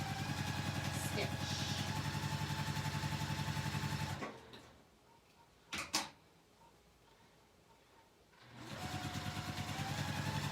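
A sewing machine stitching a seam through fabric, a fast steady mechanical whir that runs, stops for a few seconds of near quiet with a couple of small clicks, then starts up again, loud and close.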